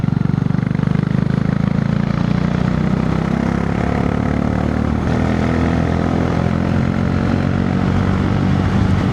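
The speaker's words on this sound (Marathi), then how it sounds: "मे बी या घाटात आपल्याच बाईकचा आवाज गुंजतो सध्या तरी." A motorcycle engine echoes while climbing a steep mountain ghat road from Mumbai toward Trimbakeshwar. It makes a loud, continuous rumbling drone mixed with wind rush throughout, with no talking.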